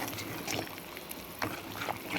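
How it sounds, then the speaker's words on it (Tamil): Chicken rasam boils in a pot with steady bubbling and soft popping, a busy liquid simmer heard close up with no talking. "இங்கே பாருங்க நல்லா கொதிக்குது"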